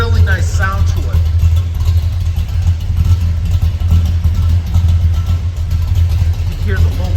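A 1966 Pontiac GTO tribute with Magnaflow mufflers idles with a deep, loping exhaust burble, steady and close, while someone talks over it.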